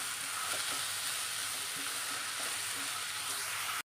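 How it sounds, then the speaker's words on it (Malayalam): Crushed green chili and curry leaves sauté in a pan for a pepper chicken dish, a steady broadband sizzle running the whole time with a few faint stirring scrapes, close and fairly loud, with no talking. "ഒന്ന് വഴറ്റിയെടുക്കാം."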